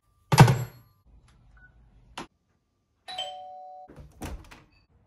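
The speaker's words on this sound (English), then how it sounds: "First thing in the morning, the doorbell goes." A doorbell rings, a loud buzzy ring followed by a short tonal chime, then another brief ring; quiet thumps in between, no talking.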